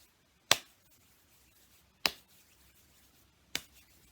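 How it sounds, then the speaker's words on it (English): Three sharp, isolated hand claps spaced about a second and a half apart, close and clear in a quiet room, with no rubbing sound evident between them. "it's a clapping of the hands, but then we're going to follow it by kind of rubbing our hands together"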